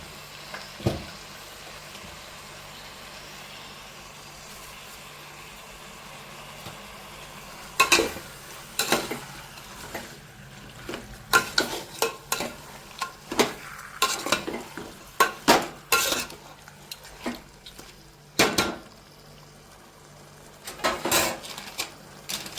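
Masala is stirred into chicken for a village-style chicken biryani, with a steady low sizzle under repeated scraping and clattering of a spoon against the pot. The knocks come in irregular bursts, loud and close.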